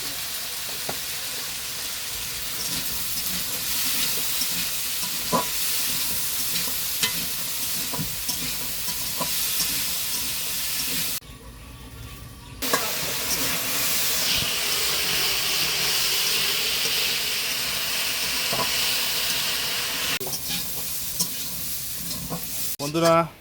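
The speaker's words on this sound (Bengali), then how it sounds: "কাঁঠালের দানা ভাজা হয়ে গেছে" Jackfruit seeds frying in a pan with salt and turmeric give off a continuous loud sizzle, with stirring scrapes throughout and a short quieter break partway through.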